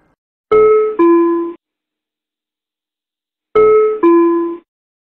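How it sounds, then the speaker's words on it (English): A two-tone electronic chime from an ATR 72 cockpit interphone call, a high note then a lower one, rings twice with a pause of about three seconds between, clear and alone. "The doorbell sounds when the cabin crew or the mechanic is calling on the interphone."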